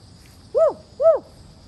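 Two rising-falling owl hoots ring out clearly outdoors, answering a man's imitated woo calls, evenly spaced and fairly close against a quiet background.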